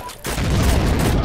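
Gunfire from a gun in the Heroes and Generals game bursts into a dense, loud, continuous roar of shots after a brief lead-in, filling the short moment.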